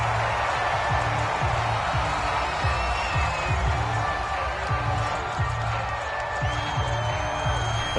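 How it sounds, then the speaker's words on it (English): A home crowd in a sports video game keeps up a steady roar of cheering throughout, with a commentator's voice running over the top of it. "This home crowd, they're happy with that call."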